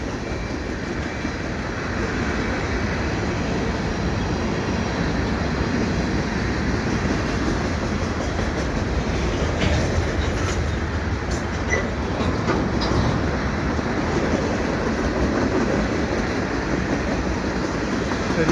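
A CN freight train with a long string of gondola cars rolls steadily past a footbridge at Beaconsfield, a continuous loud rumble of wheels and cars with faint clicking and squeal on top, no voices.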